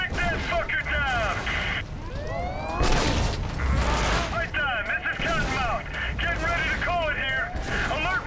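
Gunfire in the Prototype 2 video game: repeated bursts of automatic fire and heavy impacts amid chaotic combat effects, loud and sustained across the whole stretch, with voices shouting over the shooting.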